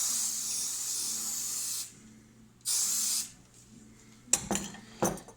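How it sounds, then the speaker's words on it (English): Two long, steady hissing bursts of 505 temporary fabric adhesive spray from an aerosol can, close and fairly loud, separated by a short pause and followed by a few light clattering knocks. "I'm going to spray mine in place with some 505 spray"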